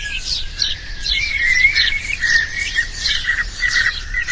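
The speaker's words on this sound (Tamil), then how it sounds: "அப்பொழுது பறவைகள் சவுண்ட் மிக அருமையாக இருக்கிறது" Birds chirping in a steady stream of high tweets and squawks, fairly close and continuous over a faint low background with no talk.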